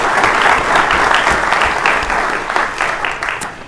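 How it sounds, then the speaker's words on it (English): Sustained applause from the audience at a city council meeting, honoring the program's team: loud, dense clapping that holds steady for several seconds before gradually thinning toward the end. "maybe just a moment for applause for the hardworking team who made this possible as well"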